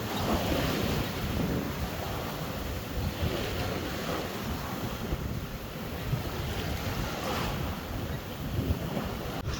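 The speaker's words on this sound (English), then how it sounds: "Winds and the waves are a little bit bigger than we were expecting" Rough sea waves and strong wind buffet a sailboat on a Channel crossing, a continuous loud rushing wash with gusty wind noise hitting the microphone throughout, no voices.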